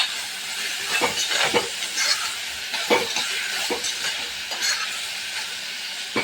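Chopped tomatoes sautéing in a pan for prawn roast, a gentle hiss of frying with irregular spoon scrapes and stirs rising now and then over it.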